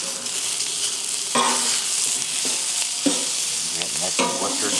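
Poblano peppers blistering in a hot pan, with a loud, steady sizzle and crackle and a few sharper pops and stirring scrapes, close up and with no voices.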